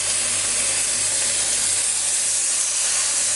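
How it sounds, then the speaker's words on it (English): Lamb meat sears in a hot pan over high heat, a loud, continuous sizzling hiss that stays steady and close throughout, with no talking. "Just seal it off and get that beautiful kind of caramelisation on the outside of the meat."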